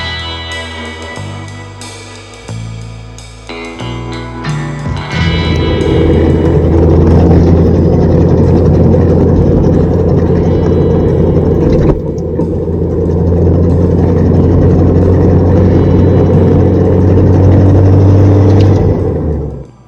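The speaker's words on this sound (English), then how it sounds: "The car was making a horrible metal-on-metal tapping noise right at about 2500 RPMs, only under throttle." An Audi TT engine with a suspected failing turbo, pulling under throttle near 2500 RPM with a metal-on-metal tapping fault, gives a loud, close, steady droning rumble after a few seconds of shifting lower tones; no one speaks.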